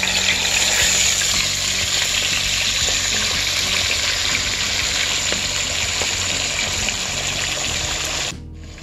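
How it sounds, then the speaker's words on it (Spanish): Round slices of fish frying in hot oil for escabeche give a steady, loud sizzle and crackle that runs continuously before cutting off abruptly near the end. "friendo nuestras rueditas de pescado para entonces preparar nuestro pescado en escabeche"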